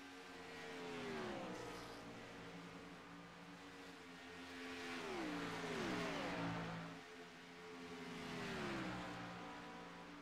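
Race cars at the Charlotte All-Star race roaring past in repeated waves, each engine note swelling and then dropping in pitch as it passes, heard from a distance and fairly faint.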